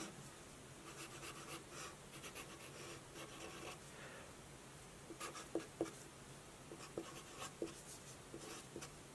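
A pen scratches across a surface while drawing a circuit diagram, faint soft scraping strokes in short runs with small taps, heard alone in a quiet room.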